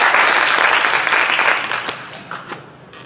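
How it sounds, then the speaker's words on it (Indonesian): Congregation applauding during a church worship service, a loud wash of clapping that gradually thins and fades out toward the end. "Tepuk tangan dulu buat Tuhan yang mau hadir di tempat ini."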